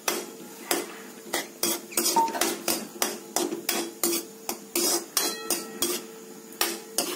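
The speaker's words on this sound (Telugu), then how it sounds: "ఇదిగోండి, కిస్మిస్ వేస్తున్నాను ఇప్పుడు." Cashews and raisins frying in ghee in a pan for beetroot halwa, heard as a steady run of sharp metallic clinks and scrapes of a spoon stirring against the pan, repeating roughly twice a second, close and clear with no talking.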